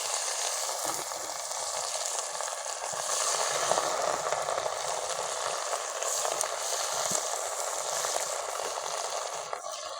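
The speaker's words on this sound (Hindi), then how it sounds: "ये कसूरी फिश बिल्कुल डीप फ्राई कर रहे हैं हम।" Kasuri fish deep frying in hot oil on a tawa over a high flame, a steady, dense crackling sizzle that holds at an even level for the whole stretch with no talk.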